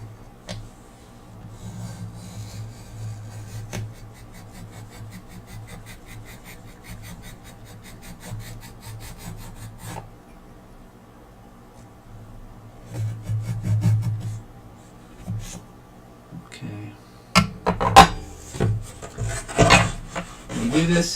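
A knife or wire cutting through a sculpting block for a stop motion character, a soft scraping and rasping that grows louder and more jerky toward the end, close by and without talk.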